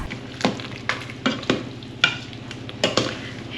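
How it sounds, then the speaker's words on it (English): Steak pie filling being stirred in an Instant Pot, a spoon scraping through thick stew in a series of close, distinct strokes with soft bubbling between them and no talking. "I'm going to give it a stir and see how it is."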